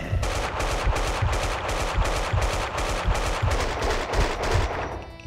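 Gunfire in Max Payne rattles off as a steady string of rapid, evenly spaced shots for about five seconds, loud and close, stopping just before the end.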